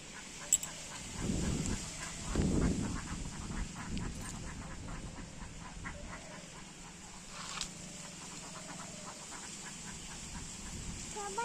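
A flock of ducks on a pond gives scattered, fairly faint quacks at a distance, with a few soft low rustles near the start.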